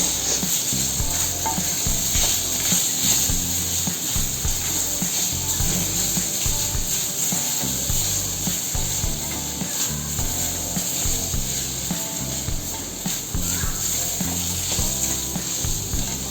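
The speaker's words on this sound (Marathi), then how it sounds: "आणि आता ही डाळ चांगली परतवून घेऊ" Ground dal being stirred and sautéed in a tempering in a pan, a steady sizzle under repeated scraping and rubbing of a spoon, continuous and close for the whole stretch.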